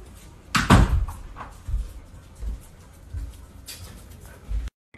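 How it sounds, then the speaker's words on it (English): A door shut with a firm thud near the start, followed by a few softer knocks and bumps, close by with little else audible. "Would you make sure you shut the door?"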